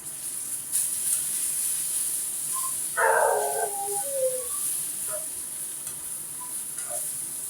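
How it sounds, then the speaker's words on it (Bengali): Potatoes and green bananas frying in oil with turmeric, giving a steady hiss of sizzling with occasional stirring scrapes, close by, while a dog barks briefly in the background. "কাঁচকলা আলুগুলো ওর মধ্যে ওই তেলের মধ্যেই ভেজে নিচ্ছি"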